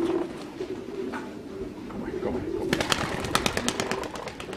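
Racing pigeon released outdoors during a pigeon race, with soft cooing followed by a burst of sharp fluttering wing claps as it takes off, close and fairly loud.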